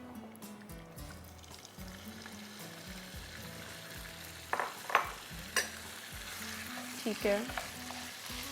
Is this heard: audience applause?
no